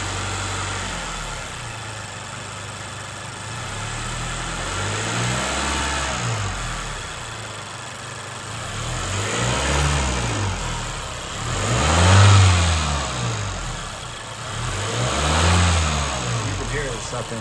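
A 10th-generation Honda Civic 1.5 turbo with an Injen intake revs up and down in repeated swells over a steady idle, with people talking nearby over the rumble.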